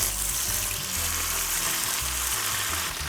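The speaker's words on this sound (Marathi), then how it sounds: "हे कांदा लसूण आणि लिंबूमध्ये नुसते मॅरिनेट केलेले पीसेस हे डायरेक्ट फ्राय करायला सोडूया" Fish pieces marinated in onion, garlic and lemon fry in hot oil, giving a loud, steady, close sizzle that runs without a break.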